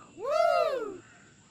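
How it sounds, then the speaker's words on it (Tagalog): A single drawn-out, harsh caw from a crow, fairly close and clear, rising and then falling over about a second against quiet background. "Ayun na, may uwak pa."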